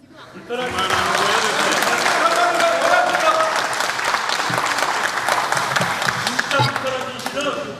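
Loud, sustained applause fills a National Assembly plenary hall, many hands clapping at once with some voices and cheers mixed in, swelling quickly and continuing for several seconds.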